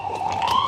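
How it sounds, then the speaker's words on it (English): A siren wails steadily, its tone slowly rising, clear and fairly near with no talking. "Hear the sirens?"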